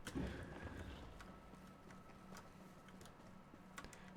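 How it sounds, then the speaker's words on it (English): Computer keyboard typing, heard as faint, sparse clicks scattered over a steady low hum of game background sound, with no voices. "You already have to hear my keyboard enough."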